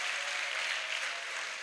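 A church congregation applauds during a pastor's sermon, a dense, steady wash of many hands clapping together that holds at an even level for under two seconds.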